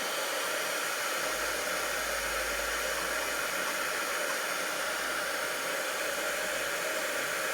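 A craft heat tool blows steadily on a small embossed card piece, a continuous loud whooshing hiss of hot air with a low motor hum, alone throughout.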